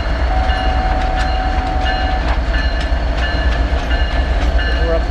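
A Norfolk Southern freight train led by locomotive 8099 rolls past close by, with a loud, steady rumble and the repeated clatter of wheels over rail joints.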